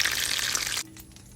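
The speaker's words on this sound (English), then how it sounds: "But we're going to fry in this little cast iron and just baby them and turn them." Crawfish eggrolls fry in a small cast iron pan, giving a close, steady crackling sizzle that cuts off abruptly after under a second, leaving near quiet.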